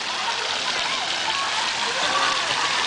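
Light rain and splashing water from a child playing outdoors in a shower, a steady broadband patter throughout with occasional brighter splashes, close and continuous.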